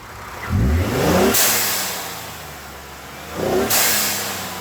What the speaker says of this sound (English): just the noises from like the intake and the blowout valve